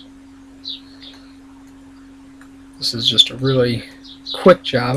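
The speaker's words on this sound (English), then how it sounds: "Sorry if you hear all the birds chirping outside." Birds chirp outside, faint and distant, a few brief tweets in a quiet room over a steady electrical hum before a person starts talking.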